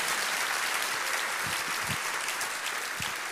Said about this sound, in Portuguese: se é para Jesus, como diz o pastor Flavinho, você pode aplaudir mais alto.